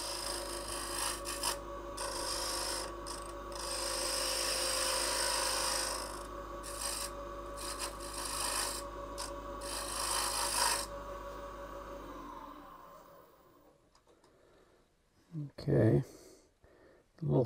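A 3/8 inch bowl gouge cuts into a spinning wooden winged box on a lathe, making a steady scraping rasp for about twelve seconds before it stops, leaving faint handling noises and brief knocks.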